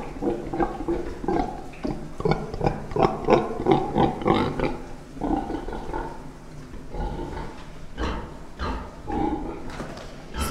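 A sow grunting repeatedly in a pig shed, rhythmic close snorts and low grunts coming in clusters, with quieter stretches between.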